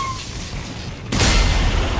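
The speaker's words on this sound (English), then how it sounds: "I thought I was gonna get close enough to self-damage me with the explosion" Explosion in the sci-fi horror game Dead Space 2, a sudden loud broadband boom that cuts in about halfway through and rumbles on as a heavy roar, with no voices over it.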